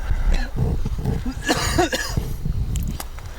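Several rough coughs close to the microphone, harsh and throaty, in short bursts over a few seconds.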